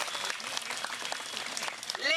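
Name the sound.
audience applause at a speech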